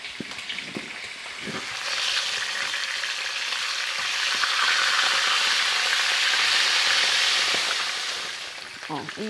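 Lamb ribs fry in a pan with a steady, broad sizzle that swells in the middle and eases off toward the end. Faint stirring clicks and scrapes come through it, all close at hand.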